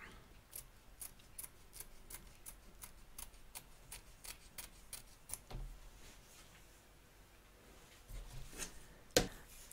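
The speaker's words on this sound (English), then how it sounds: "So we're going to trim off this excess fabric both back and front" Scissors snip excess fabric from the back and front of an embroidery hoop, a run of about a dozen sharp, evenly spaced close-up clicks that later slow to a few quieter cuts with light handling noise.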